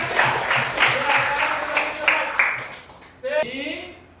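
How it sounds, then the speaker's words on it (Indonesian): A classroom audience at a group presentation gives a rhythmic round of clapping that lasts about three seconds. A voice then speaks once the applause dies down. "Kasih tepuk tangan sekali lagi."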